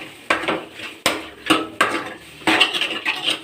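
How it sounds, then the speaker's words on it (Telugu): A lid handled onto a pan of chicken frying with garlic, heard as a series of sharp metallic clanks and knocks up close, with a faint sizzle between them and no voices. "మూత పెట్టుకుందాం."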